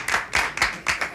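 A handful of sharp, separate claps from the audience at a 1967 stand-up comedy show, four bursts in a loose rhythm, close and fairly loud with no talking.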